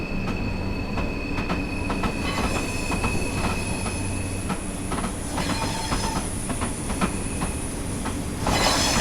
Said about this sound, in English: And we are driving a 10-car train,